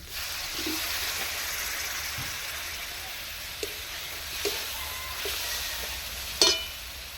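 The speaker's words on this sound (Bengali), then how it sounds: "আর একটু জল দিয়ে দিচ্ছি মশলাটার সঙ্গে" Water added to a sizzling pan of spice mix for singara filling, producing a continuous even hiss of frying with a few faint scrapes and a sharper clack near the end.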